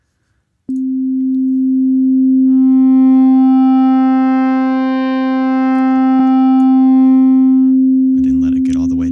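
A pure sine wave synth tone in FL Studio, its knob automated on a low setting, holds one steady pitch, swelling and fading slowly as buzzy overtones rise and fall, then a voice cuts in at the end.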